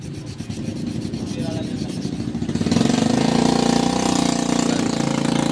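Rough, rhythmic rasping of sandpaper rubbing back and forth to sand a groove during an electric fan repair, growing louder and denser halfway through, with a low motor hum underneath.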